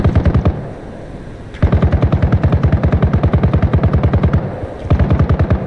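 Rapid, evenly spaced bursts of gunfire from a Cobra attack helicopter in the video game Arma Reforger, loud and close, with one short pause before the firing resumes.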